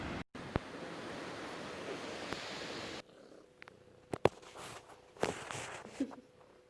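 Steady wash of waves on a beach at night, a broad hiss for about three seconds that then drops to a quieter surf with a few faint knocks.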